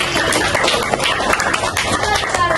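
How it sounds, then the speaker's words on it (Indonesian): A primary school class claps together during a sixth-grade science lesson, producing a dense, close burst of quick, uneven hand claps that runs throughout without a pause. "Tepuk tangan lagi."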